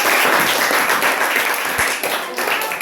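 Students in a classroom give a short burst of clapping, brisk and fairly close, fading slightly toward the end.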